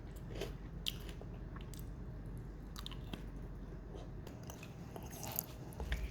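Dehydrated squash chips crunching between the teeth, a steady close-up chewing texture of small crisp bites with faint sharper cracks scattered throughout, no voices.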